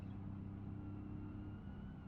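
A slow stock Piccolina car engine in the driving game BeamNG.drive drones at a steady low pitch, a faint constant hum with no revving and no talk.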